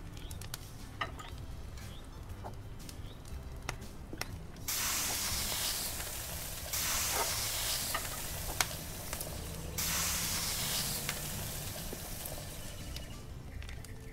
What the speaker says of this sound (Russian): Так, жарим, жарим, жарим.